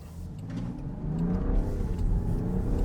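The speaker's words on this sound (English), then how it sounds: "We're gonna get on it just a little bit to get out in front of some traffic as soon as it lets up." A 2025 Land Rover Defender 110 engine builds steadily under acceleration, a continuous mid-range drone heard from the cabin that grows louder and rises in pitch, with no talk over it.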